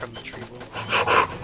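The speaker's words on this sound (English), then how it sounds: "This heavy breathing" A soldier in the World War I shooter Verdun breathes heavily, with ragged gasps and pants that grow louder and more strained toward the end.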